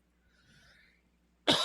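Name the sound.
cough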